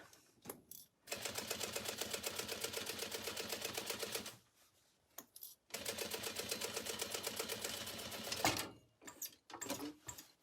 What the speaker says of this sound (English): I'm going to make sure that I always back stitch when I start. Sew across.